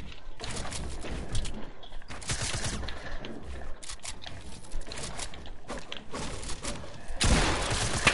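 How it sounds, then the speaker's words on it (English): Video game SMG and shotgun gunfire erupts in dense bursts of rapid shots with a louder blast near the end, sharp and close, with no talking over it. "I missed like 5 of my SMG shots"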